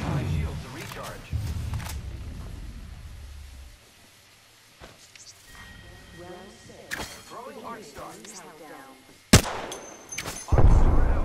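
Gunfire in the battle-royale shooter Apex Legends, with sharp shots bursting out in clusters near the start, middle and end, partly under a player talking.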